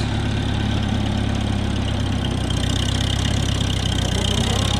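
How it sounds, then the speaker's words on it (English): A 1948 John Deere M tractor engine runs cold in deep snow, a close, loud, steady throbbing chug with a constant rumbling rhythm and no talking. "The engine's not warmed up real good yet."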